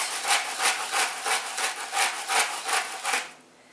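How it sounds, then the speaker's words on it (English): Pink Himalayan salt crushed in a hand salt grinder over a lid, about ten rhythmic gritty rasping turns close by that stop just before the end. "I just grind it into the lid."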